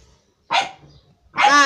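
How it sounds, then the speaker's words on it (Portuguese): Female dogs barking and scuffling indoors, two sharp close barks separated by a short pause, the second more tonal and whining, without speech. "as cadelas se pegando"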